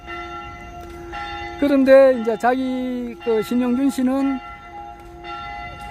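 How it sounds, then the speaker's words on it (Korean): A Catholic church bell rings out in long, clear, resonant tolls that overlap and fade, while someone talks steadily over the ringing. "종소리가 나네요."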